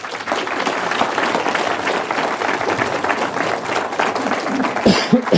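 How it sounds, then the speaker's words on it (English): Audience applause at a national manufacturing summit, steady sustained clapping from a crowd filling the room, with a few louder claps and a cough near the end. "let's just give him a round of applause"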